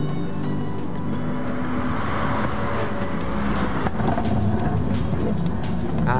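Racing car engines in GT Sport during an FIA Manufacturer's Cup race at Sardegna, including a Subaru, a loud sustained engine roar with shifting pitch as cars run close together.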